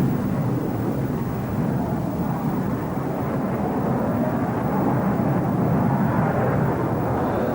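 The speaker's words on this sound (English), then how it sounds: "the F-16 is probably the most agile aircraft in the sky" An F-16 fighter jet in flight gives a loud, steady, broad roar that holds without pause through the whole stretch, with no voices.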